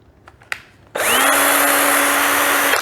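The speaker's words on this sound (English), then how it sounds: "Now I've got life back into my old 18 volt drill." After a couple of clicks, an old 18-volt cordless drill running on a battery adapter whirs up sharply and runs at a steady high-pitched whine, loud and close.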